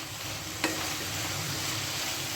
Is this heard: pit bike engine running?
no